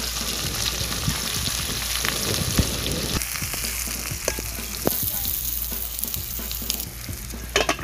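Onions and chilies frying in oil in a pan, a dense, continuous crackling sizzle with scattered pops and faint stirring clicks, close and steady with no talking.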